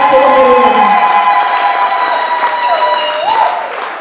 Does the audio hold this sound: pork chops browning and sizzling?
no